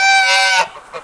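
A goose on a farm lets out one loud, close, harmonic honk lasting over half a second, followed by a softer, briefer call.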